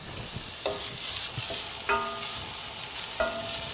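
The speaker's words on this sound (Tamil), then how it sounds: "அடுத்தது இந்த வெங்காயம் போட்டுக்கணுங்க." Chopped onions tipped into a hot pan with garlic and ginger, giving a steady frying sizzle with a few stirring scrapes and clatters at intervals, close and moderately loud with no talking.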